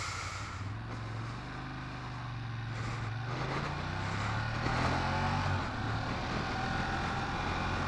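A Ducati Monster 1200R motorcycle being ridden on a dry morning road: a steady, low engine drone under constant wind rush, the pitch easing and then rising slightly midway, with no talking.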